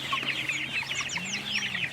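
Chickens cluck and chatter continuously at close range while feeding on grass, a busy overlapping flock sound with no talking.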